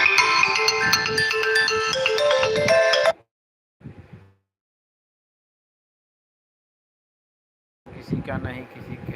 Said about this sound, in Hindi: किसी का फ़ोन आ रहा है और फ़ोन कर रहे हैं लोग